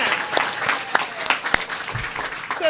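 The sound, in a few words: applause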